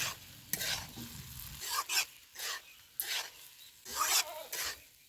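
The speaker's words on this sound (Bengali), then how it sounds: "এবার দিয়ে দিব ভেজে রাখা সোয়াবিন ডিমের টুকরোগুলো ভালোভাবে একসঙ্গে কষিয়ে নেব তরকারিটা" A curry of fried soybean chunks and egg pieces is stir-fried in a pan. A spatula scrapes in repeated rasping bursts over a light sizzle, close and fairly loud, with no talking.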